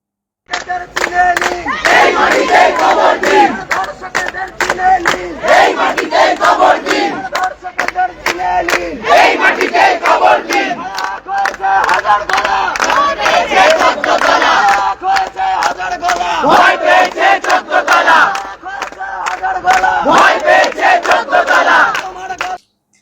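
Doctors rally at a protest, a large crowd chanting slogans loudly in repeated rhythmic bursts, each round of voices rising together and pausing briefly before the next.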